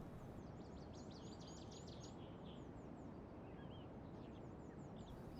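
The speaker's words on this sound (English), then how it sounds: "I hear birds." Birds chirping in the video game Genshin Impact: several short, high tweets and calls repeat over a loud, steady broadband ambience, fairly faint and scattered through the scene.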